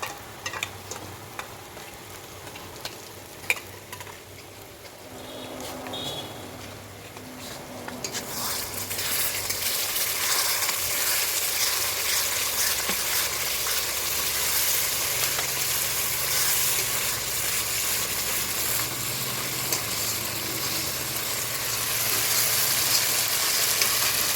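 Spice masala with sour yogurt sizzles in a pan, a quieter patch giving way after a few seconds to a loud, continuous frying hiss with stirring that holds to the end, no voices.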